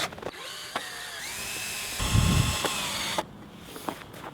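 A power drill whirs with a high, steady whine, ramping and dipping, with a heavier grinding burst in the middle before it cuts off.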